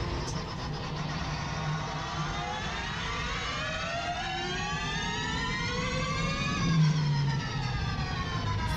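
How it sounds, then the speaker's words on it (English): The DevBot, an autonomous electric race car, drives itself around the Formula E street track in Rome, its electric motor whine rising and falling in a steady pitch sweep with no talk over it. "The DevBot driving itself around the Formula E track of Rome."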